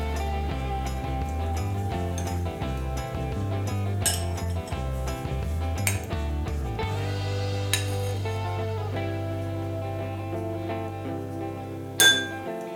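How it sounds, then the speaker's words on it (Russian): A spoon stirs liquid in a glass while a foam-volcano mixture is prepared, giving bright, ringing clinks in an irregular rhythm, close and clear, with a low hum underneath and no talking. "Чуть-чуть аккуратненько перемешай"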